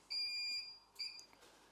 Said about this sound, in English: When the timer beeps, open your press.